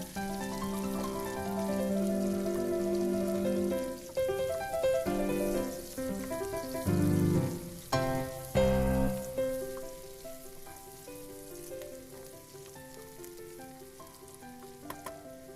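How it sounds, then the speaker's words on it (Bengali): Chopped onion, green chili and capsicum frying in oil for egg-chicken chowmein, a steady sizzle with bright clinks from stirring that briefly swell and then settle into a softer fry. "এবার তেলে দেব কুচনো পেঁয়াজ, একটু কাঁচা লঙ্কা কুচি এবং ক্যাপসিকাম কুচি"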